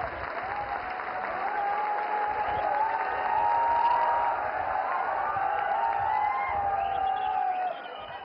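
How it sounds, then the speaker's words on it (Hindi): A large audience applauds to welcome Prime Minister Narendra Modi at a hospital inauguration in Silvassa, a sustained wash of clapping with faint cheers, steady and even throughout. "जन जन के नेता, विकास पुरुष हमारे यशस्वी प्रधानमंत्री माननीय श्री नरेंद्र मोदी जी को तालियों के साथ उनके विशेष संबोधन के लिए आमंत्रित करते हैं"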